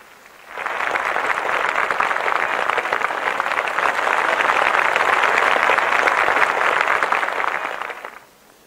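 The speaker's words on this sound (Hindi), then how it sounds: "तालियां बजा के अभिनंदन कीजिए" A large crowd at a forest committee conference in Madhya Pradesh with Union Home Minister Amit Shah bursts into loud, dense applause that swells in, holds for several seconds, and then fades out abruptly.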